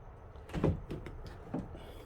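A HOOWISER fingerprint electronic door lock engages, giving a few short mechanical clicks and whirring bursts close by in a quiet room.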